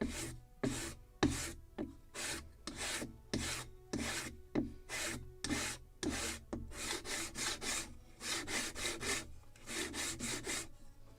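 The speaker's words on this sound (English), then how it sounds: "I'm turning constantly and sanding simultaneously, so it is evenly sanded and evenly tapered" Hand sanding of a small softwood spar being turned for a Model Shipways kit of the 1776 gunboat Philadelphia: quick repeated rasping strokes in bursts, close and clear, with no voices.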